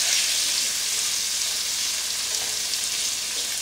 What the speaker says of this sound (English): So we go ahead and put the shrimp in here, into the pan.